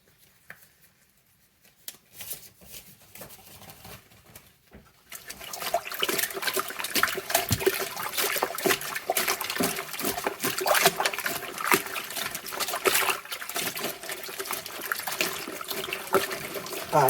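Water splashes and trickles steadily as it is poured back into a felting pot, starting faint and brief, then a loud continuous pour from about five seconds on.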